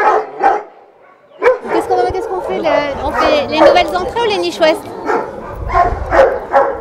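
Dogs bark and yip at an SPA animal shelter, several short barks heard near and far beneath people talking in French.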